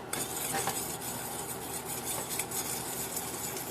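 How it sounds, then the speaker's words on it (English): Brown sugar being stirred into a honey-and-butter glaze in a pan, a utensil scraping and clinking steadily against the metal over a soft sizzle for several seconds. "So I'm going to stir in that brown sugar."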